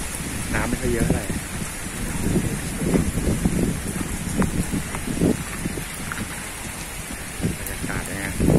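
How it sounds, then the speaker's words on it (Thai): Steady rain falls at a rural family home in Pathum Thani, a broad constant hiss with wind noise on the microphone, while someone talks over it throughout. "บรรยากาศเนี่ยเจ๋งนะฝนตก"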